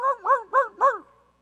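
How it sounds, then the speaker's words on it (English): A small dog barks four times in quick, evenly spaced succession, close and fairly loud, with nothing else around it. "Doggy. I meant doggy."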